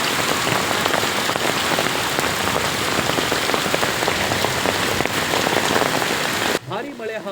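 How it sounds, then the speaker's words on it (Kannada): Heavy rain mixed with hail pounds down steadily and loudly on roofs and roads, a dense continuous roar that cuts off abruptly near the end. "ಭಾರೀ ಮಳೆ ಹಾಗೂ ಆಲಿಕಲ್ಲು ಮಳೆ ಸುರಿದ ಪರಿಣಾಮ ಗ್ರಾಮವೆಲ್ಲ ಬಿಳಿ ಹೊದಿಕೆಯಿಂದ ಆವೃತವಾಗಿ"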